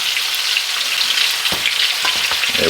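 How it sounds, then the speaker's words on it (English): Lamb chops fry in a pan over low heat, a steady close sizzle with a few soft clicks of the pan or utensil near the end. "These take no time to fry up"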